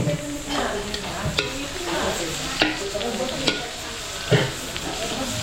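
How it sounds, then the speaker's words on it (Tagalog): Garlic and onion sautéing in a pan for party catering, a steady sizzle broken by several sharp clanks of a spoon stirring against the metal. "papapulayin ko lang itong bawang sibuyas"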